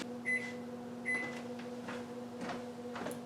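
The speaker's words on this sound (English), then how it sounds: "I'm going to take that disc and I'm going to stick it in the microwave" Microwave oven running with a disc golf disc inside, a steady low mechanical hum with two short beeps near the start and faint clicks and rustles nearby.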